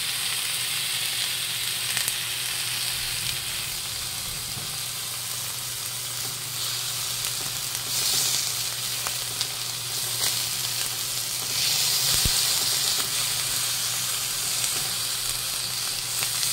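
Two chicken thighs sizzling steadily in a new frying pan, a constant crackling hiss of hot oil with occasional sharper pops and stirring scrapes, close and fairly loud with no talking.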